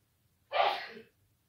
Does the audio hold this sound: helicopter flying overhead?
no